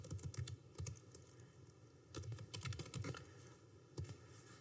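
A name typed on a computer keyboard: close, quiet bursts of rapid key clicks separated by short pauses.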